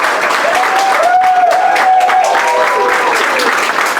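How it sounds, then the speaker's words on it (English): A crowd applauds at a health clinic press conference, steady, dense clapping that fills the whole stretch at a loud, close level, with a few faint whistles or cheers riding on top. "I want you to first give a thunderous applause to Tanisha"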